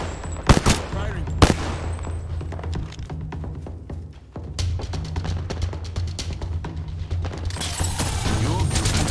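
Gunfire in the video game Apex Legends: bursts of rapid automatic shots and sharp single cracks over a low rumbling game ambience, with a voice speaking briefly over the fighting.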